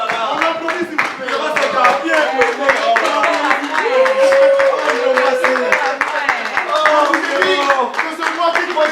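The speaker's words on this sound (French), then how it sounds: "On applaudit s'il vous plaît." Guests at a civil wedding clap steadily and continuously, with many overlapping talking and cheering voices throughout.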